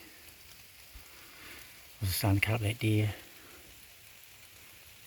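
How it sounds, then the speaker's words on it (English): Steady soft rain patters in the background throughout in the Northern Kaimanawa forest during a sika deer hunt, while someone speaks briefly near the middle. "Raining again."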